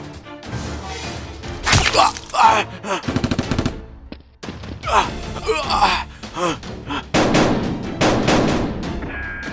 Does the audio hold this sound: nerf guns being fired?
yes